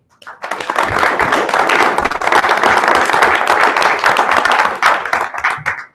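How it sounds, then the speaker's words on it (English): Sustained applause from a city council meeting audience, dense continuous clapping from many hands at close range that starts abruptly, holds steady for several seconds and tapers near the end. "you deserve a round of applause"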